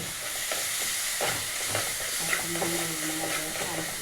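Ground spice paste frying in a pan and being stirred, with a steady loud sizzle throughout and scraping strokes of the spoon breaking through at irregular intervals.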